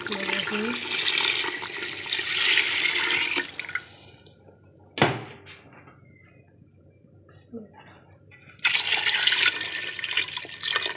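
Water poured into a pot of chicken shorba: a close, splashing gush for a few seconds, a quieter stretch broken by a single knock, then the pouring rushes in again to the end.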